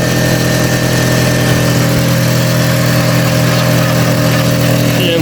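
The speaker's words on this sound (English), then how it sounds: "Got a bit of a blow from the exhaust." Audi TT Mk1 1.8T Quattro engine idles loudly and steadily close up, a constant droning hum with a faint ticking blow from a loose exhaust centre pipe, no one talking.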